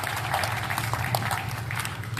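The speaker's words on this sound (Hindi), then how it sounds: "दोनों हाथ हवा में उठाकर जोरदार तालियां बजाइए" A crowd at an open-air Hindi poetry recital in Sojat City applauding, a steady even wash of many hands clapping at moderate distance with no pause.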